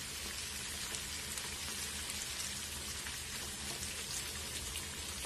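Onions deep frying until crisp in a pan of hot oil make a steady, dense crackling sizzle that stays even and close throughout, with no voices.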